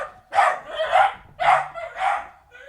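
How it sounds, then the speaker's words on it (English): A dog barks four times in a steady rhythm, loud and close, each bark full and ringing. "My dog really doesn't like Angus Sinclair."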